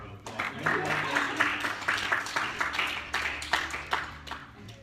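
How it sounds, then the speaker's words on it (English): Audience applause at a live gathering in Boone, North Carolina, steady and moderately distant, with a few sharper claps standing out over a continuous patter that lasts almost the whole stretch. "we can give her a round of applause"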